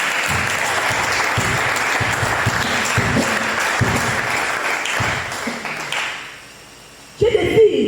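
A church congregation breaks into loud sustained applause and acclaim, dense clapping with cheering voices for about six seconds before fading out, followed by a brief new sound at the end.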